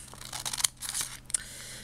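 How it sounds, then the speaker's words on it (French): Ordinary scissors snip paper into thin strips for paper embellishments, a run of quick close cuts and soft rustles with short pauses between. "vous prenez des ciseaux et il vous suffit de faire les petites..."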